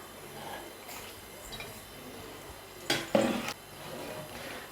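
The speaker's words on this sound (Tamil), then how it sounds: "6 கிலோ சிக்கன் நம்ம இப்போ சேர்த்துடலாம்." Six kilograms of chicken tipped into a large biryani pot, heard as a short wet clatter and splash of pieces hitting metal and liquid, two quick bursts close by after a quiet stretch.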